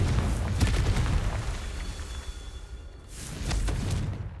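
Confringo fire spell blasts in the video game Hogwarts Legacy, a deep booming explosion with a rushing whoosh, fading into a rumbling tail before a second burst erupts near the end.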